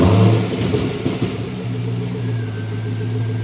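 A 2009 Pontiac G8 GT with its muffler and rear resonator removed runs with a loud, deep, steady exhaust rumble up close after a brief burst at the start.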